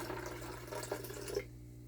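Cloudy marine wastewater pours straight into a rotifer culture as a faint, close trickle and splash of liquid. It stops abruptly after about a second and a half, leaving a low background hum.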